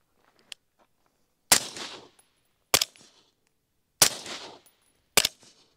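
Four suppressed shots from a 300 Blackout AR-15 fitted with a Dead Air suppressor, each a sharp crack followed by a short decaying tail, spaced about a second apart outdoors with quiet gaps between.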